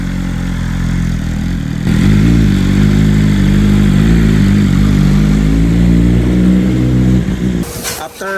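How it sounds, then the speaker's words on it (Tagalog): A motorcycle pulls away on a road test after an oil change, its mid-pitched engine droning steadily and rising in revs over several seconds, loud and close, under a person talking, before fading at the end. "I-road test nila yung motor na yun, oh."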